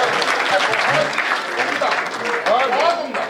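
Audience applause at a kavi sammelan, Hindi poetry gathering, a loud sustained clapping from a large crowd, with voices and whoops over it throughout.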